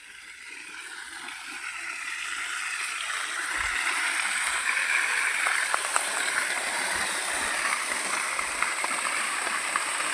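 Pumped irrigation water pours from a motor-driven pipe into a dry wheat field's channels, a steady broadband rush of flowing water with faint splashing that grows slightly louder partway through.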